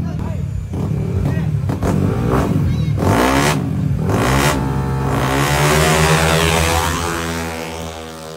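A Yamaha NMAX scooter revs hard in a street race, with rising and falling engine whines from several passing machines, loud and close, mixed with shouting voices.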